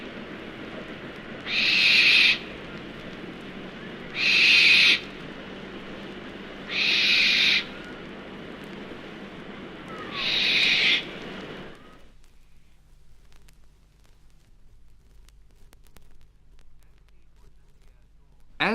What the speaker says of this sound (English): it may be possible to hear the eerie sound of a barn owl that's been roosting in a thorn or other